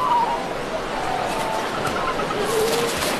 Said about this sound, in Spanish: Las gaviotas cocineras son unos temidos habitantes de la costa sudafricana.